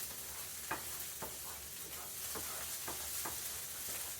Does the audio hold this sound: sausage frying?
yes